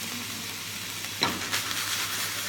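Ground beef for tacos sizzles and fries in a pan with a constant crackling hiss. Midway comes a brief scrape of stirring, followed by a few softer clinks.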